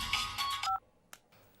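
Phone sounds come in quick succession: a few short electronic tones, like keypad beeps or a ringtone, followed by a brief click and near silence.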